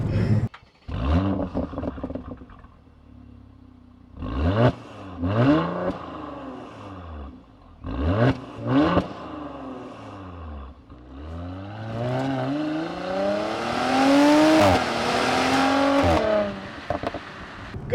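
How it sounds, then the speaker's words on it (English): A Mercedes C450 AMG in Sport Plus mode accelerating hard, the engine revving up through several gears with rapid downshifts, exhaust burbles and a long rising roar near the end. "It downshifted so dramatically. Yeah, exhaust makes nice burbles"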